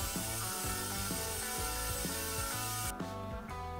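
Wood bench side pieces are sanded quickly with a power sander, giving a steady, buzzing, close grind that runs for a few seconds and then cuts off.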